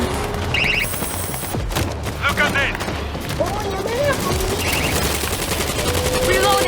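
Rapid automatic gunfire in World War Z's Horde Mode, where players fight a large zombie horde: a dense stream of shots and bursts runs under intermittent talk, with in-game effects layered on top.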